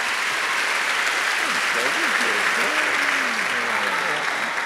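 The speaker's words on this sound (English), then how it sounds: "give him a round of applause." Sustained audience applause at a church conversation event with pastors, a steady dense wash of clapping under a voice speaking over it.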